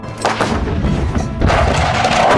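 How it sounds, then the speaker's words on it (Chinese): Explosive charge severing a suspension bridge so its deck drops away, a loud broadband boom-like burst with a second surge of noise about halfway through, dense and sustained rather than a single sharp crack. "当爆炸声响起的一刹那，整个桥面瞬间开始下坠"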